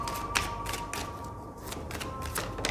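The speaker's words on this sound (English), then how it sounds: "i'll just shuffle again because i didn't feel it" Tarot cards riffle and flutter in quick repeated bursts, close by and fairly loud, over a faint steady hum with no speech.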